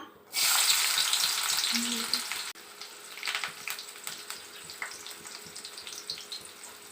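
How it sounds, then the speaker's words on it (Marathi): Loud hissing sizzle bursts out as onion hits hot oil in a wok, then settles into a quieter crackle with scattered pops and a brief clink. "आता आपण तेल टाकलेले आहे कढईत, गॅस सुरू करू। त्यामध्ये थोडासा कांदा,"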